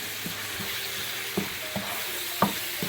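Curry spices stirred in a sizzling pan, a constant hiss of frying punctuated by several distinct scraping knocks of the spoon against the pan, close and with no voices.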